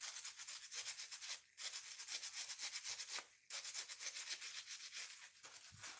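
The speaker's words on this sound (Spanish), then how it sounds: "le voy a pasar un poquito la lija" Steady, close scratchy strokes of sandpaper on wood, rubbing back and forth in a quick rhythm, with two brief pauses, no voices.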